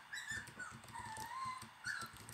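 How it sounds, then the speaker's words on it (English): A dog whimpers and yips in short, repeated high whines from somewhere behind, faint and intermittent against a quiet room. "Don't mind my dog in the background"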